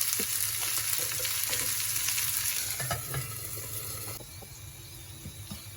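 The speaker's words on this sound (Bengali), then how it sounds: "এর মধ্যে মাছ আর আলু দুটো দিয়ে দিলাম, একটু ঢেকে নেব ভাজার জন্য।" Fish and potato slices frying in oil in a covered pan, a steady close sizzle with scattered pops and crackles that eases slightly toward the end, no one talking.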